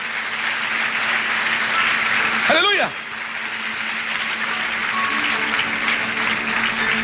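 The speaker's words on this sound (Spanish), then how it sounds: "¿Cuántos pueden dar un fuerte aplauso a Dios?" A church congregation applauds during preaching in a sustained, fairly loud wash of clapping, while a voice shouts out once over it partway through.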